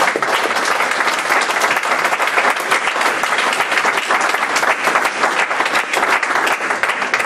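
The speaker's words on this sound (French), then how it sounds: "Est-ce que tu peux acclamer pour Jésus?" A church congregation at a worship service applauds for Jesus, with steady, dense clapping from many hands filling the room at a strong, even level throughout.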